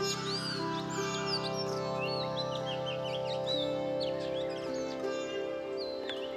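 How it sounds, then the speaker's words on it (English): Birdsong in a forest where a greater flameback woodpecker is present, a steady chorus of chirps and whistled calls over a constant droning insect-like hum, with no voices. "Here is a greater flameback woodpecker."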